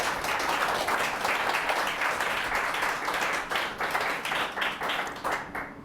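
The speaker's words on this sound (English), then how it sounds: "let's give a big round of applause to Eric Babolat." A crowd at a US Open announcement event applauds steadily, dense clapping from many hands held at an even level for several seconds, slightly thinning toward the end.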